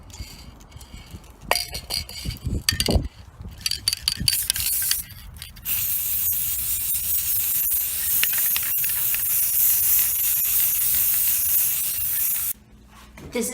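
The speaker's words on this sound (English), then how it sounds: "I'm going to spray this with some clear coat" Clear coat sprayed from an aerosol can onto a toolbox. It starts with scattered rattles and handling clicks, then gives way to a long, steady hiss that stops suddenly near the end.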